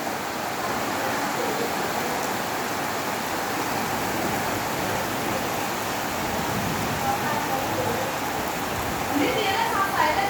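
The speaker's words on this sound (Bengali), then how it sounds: "নোয়াখালীতে প্রচুর বৃষ্টি হচ্ছে।" Heavy rain falling in Noakhali, heard from up on a fifth floor as a dense, steady hiss that holds even throughout, with some faint higher chirps appearing near the end.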